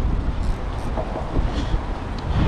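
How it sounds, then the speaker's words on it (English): Hard wind blows across the mic at a catfish fishing spot beside the water, a constant low roaring rumble with gusty swells and no pauses. "Wind blowing hard that way"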